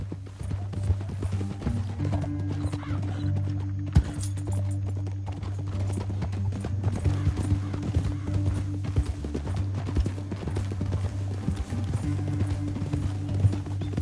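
Horses clip-clop at a steady gallop through a Red Dead Redemption 2 canyon ride, the hoofbeats moderately loud over a low ambient music bed, with no talking.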